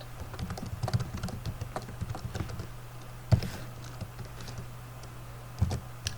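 Fingers tap steadily at a computer keyboard while coding, giving close, soft keystrokes in uneven bursts with a few louder clacks, under a faint low hum and no talk.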